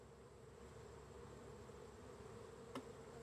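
Honey bees buzzing inside an open hive in August, a steady close drone of many bees with one brief sharper buzz near the end, no voices.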